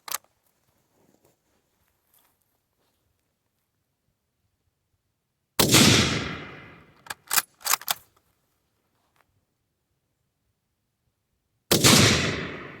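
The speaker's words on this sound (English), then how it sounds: "Let's try the Mosin 9130 at about 100 yards." Shots from a Mosin-Nagant 91/30 rifle fired toward targets about 100 yards away, heard as two sharp loud reports several seconds apart, with clacks of the bolt being worked between them.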